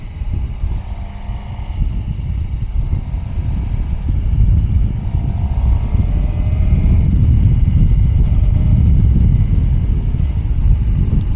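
A Suzuki GSX-R motorcycle rides slowly through a neighborhood on new tires, its engine giving a loud, steady low rumble with heavy wind buffeting that builds over the ride.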